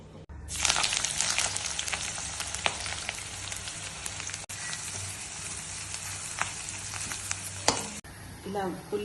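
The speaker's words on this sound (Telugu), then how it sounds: "ఇలా గోల్డ్ కలర్ వచ్చే వరకు వేయించేసుకోవాలి" Dough balls frying in oil over a low flame until golden, a steady, close crackling sizzle with occasional stirring clicks, continuous and moderately loud.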